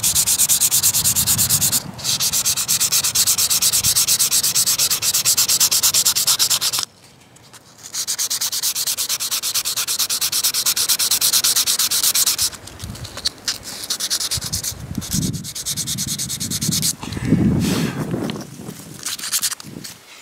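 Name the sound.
sanding rust off vintage pocket knife with 150-grit sandpaper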